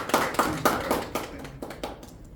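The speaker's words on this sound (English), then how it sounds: "A huge round of applause." Applause from a small audience at a Toastmasters club meeting, a handful of distinct claps in loose rhythm, moderately near and fading toward the end, with no talking over it.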